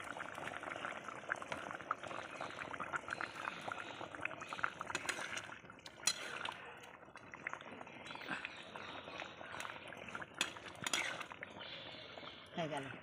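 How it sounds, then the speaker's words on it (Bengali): Fish curry bubbles in a pot on a wood-fired stove, with a steady hissing, gurgling simmer and occasional clinks of utensils against the pot, close and fairly quiet, with someone talking at moments. "তরকারিটা আমার ফুটে গেছে"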